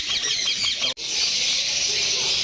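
Yellow face opaline budgies at a bird farm keep up a dense, high-pitched chatter of many birds calling at once. The flock sounds close and is broken only by a brief silent gap.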